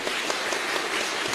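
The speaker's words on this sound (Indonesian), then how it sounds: "Tepuk tangan yang meriah bagi Tuhan." A church congregation claps enthusiastically during a sermon, a brief, dense burst of applause filling the whole moment without any voices.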